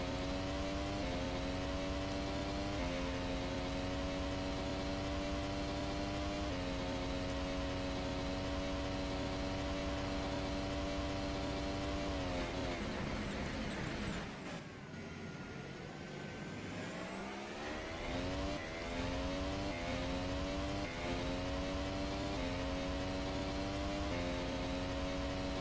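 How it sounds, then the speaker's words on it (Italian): Simulated Mercedes Formula 1 engine heard from Nico Rosberg's onboard camera car in the GP4 racing game, a loud steady high-pitched whine that shifts through gear changes, dips sharply as the car brakes, then climbs back up under acceleration. "Camera car per Nico Rosberg, sentiamo il motore Mercedes."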